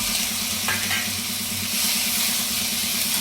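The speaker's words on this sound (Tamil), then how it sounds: "ஸோ இங்கே இந்த லைட்டாக இந்த வெங்காயம் வதங்கட்டும்" Onions and vegetables sautéing in a pan for a vegetable stew, a steady dense sizzle with a faint scrape of stirring early on.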